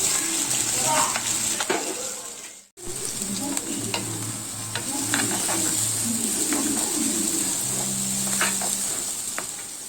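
Onions sizzle steadily in hot oil, with occasional scraping stirs and one brief break in the crackling.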